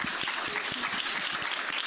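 Audience at a green IT round table event applauding its speakers: dense, even clapping from many hands, fairly soft and steady, with no voices over it.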